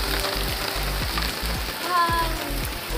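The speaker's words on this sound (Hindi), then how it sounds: "बारिश।" Steady hissing rain patters on a surface, a dense continuous wash of droplets with a low rhythmic thumping underneath.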